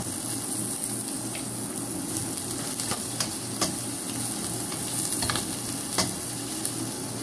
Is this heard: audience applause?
no